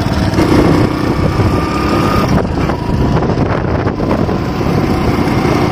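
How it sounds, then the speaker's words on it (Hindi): A motorcycle pulling away from a standstill, its engine droning steadily up close and loud, with no talking over it. "यहाँ पे बाइक है उसी पे बैठा हुआ हूँ। तो बस निकल रहा हूँ यहाँ से,"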